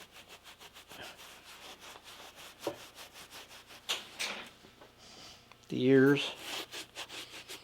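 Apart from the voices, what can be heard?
rubbing paint off an old deer mount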